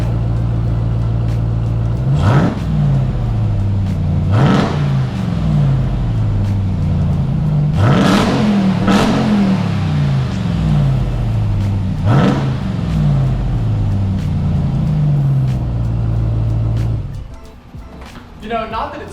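Ram TRX truck engine with bone-stock exhaust revving hard in several loud bursts over a deep, steady idle rumble, close by, with people talking over it before the motor cuts off near the end.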